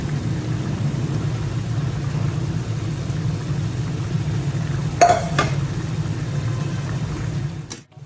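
Fish pieces and two fish heads go one by one into boiling curry gravy for doi katla, over a steady low bubbling hum with a brief splash and clatter midway.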